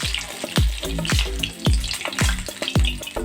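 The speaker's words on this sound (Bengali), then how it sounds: "এভাবে মাছগুলো ভেজে এক প্লেটের মধ্যে তুলে নিচ্ছে" Bhetki fish fingers fry in hot oil with a close, busy sizzle broken by repeated sharp crackles and pops at a fairly regular pace. No voices are heard.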